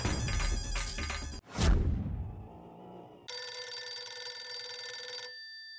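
A telephone rings as a call is placed in a household comedy scene, with a sustained electronic ring tone holding steady for about two seconds after a burst of music and a fading hit.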